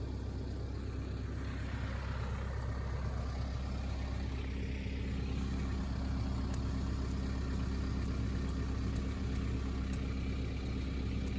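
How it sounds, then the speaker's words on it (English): A steady low tractor engine drone continues unchanged throughout with a constant rumble and no voices, on a site being soil-stabilized with Portland cement. "going to drive over this with the tractor."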